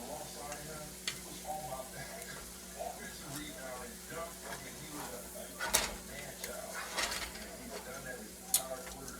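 Steak and asparagus fry low and slow in a pan, giving a quiet, continuous sizzle with scattered ticks and light stirring or clinking against the pan.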